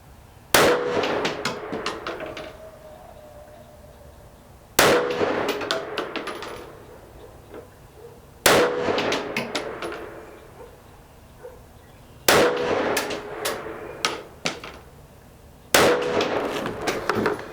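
A Walther WMP 22 Magnum pistol fires 30 grain VMAX rounds at a target, five sharp loud reports spaced several seconds apart, each followed by a ringing metallic echo that decays.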